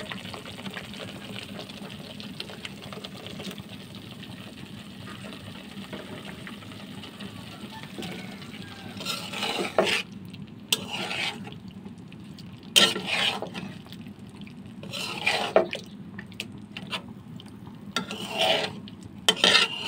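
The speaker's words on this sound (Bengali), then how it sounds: "মশলাটা মাছে মিক্স করে নিচ্ছি।" Pabda fish being mixed by hand or spoon with a ground spice paste in a pan: soft, steady stirring at first, then close, intermittent bursts of scraping and clattering.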